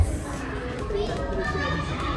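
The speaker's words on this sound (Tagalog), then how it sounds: "medyo may ingay yung mga bata dun sa likod" Children being noisy at the back during a day out with friends: a steady wash of overlapping young voices chattering and playing throughout, with no pauses.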